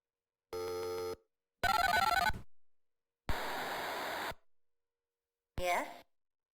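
A telephone rings in the Mean Streets video game, with four separate synthetic electronic ring bursts, each under a second long and divided by silent gaps, and the last burst shorter and warbling.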